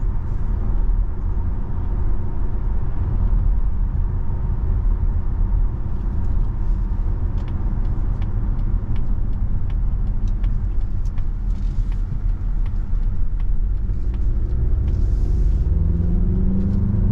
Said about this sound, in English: You certainly can hear the tires as well.